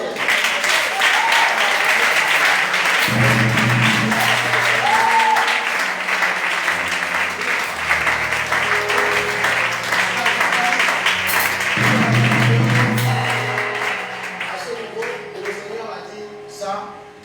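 A church congregation claps and cheers loudly and continuously to acclaim the Lord, with dense sustained applause and some voices rising over it, easing off near the end.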